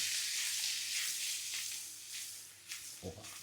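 Seasoned young potatoes with rosemary, salt and black pepper sizzling steadily in a hot pan, with soft scraping stir strokes near the end.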